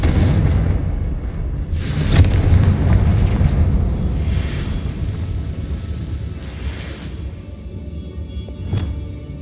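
A Confringo blasting spell exploding in the Hogwarts Legacy video game, with a heavy rumbling boom and a long, loud roar of blast and debris that slowly fades, then a sharp crack near the end.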